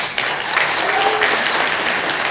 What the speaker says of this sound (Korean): 이것에 동의하시면 박수를 보내주십시오